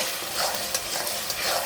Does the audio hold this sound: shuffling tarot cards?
no